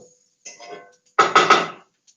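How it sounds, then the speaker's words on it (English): Stirring a zucchini dish in a pot: a short, soft scrape followed by a louder clattering knock of the utensil against the pot, close up and isolated in a quiet kitchen. "So, this is a good stir."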